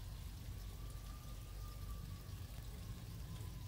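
Steady rain falls outside, a constant soft hiss of drops with a low rumble underneath. It sounds fairly faint and even, with no voices.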